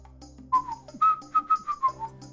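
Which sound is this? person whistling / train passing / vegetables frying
person whistling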